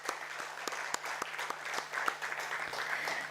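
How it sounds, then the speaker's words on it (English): Audience applause at a stock exchange listing ceremony for One Source Specialty Pharma Limited, a dense steady round of clapping from a crowd, continuous and moderately loud throughout. "Let's have a huge round of applause for One Source Specialty Pharma Limited."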